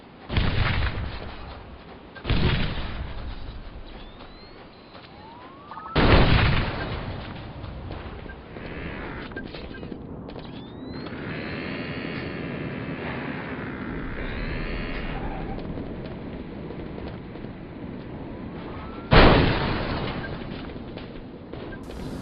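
Grenade and other explosions in the online shooter Enemy Territory: Quake Wars, with several sharp loud blasts spaced a few seconds apart over a steady rumble of battle noise.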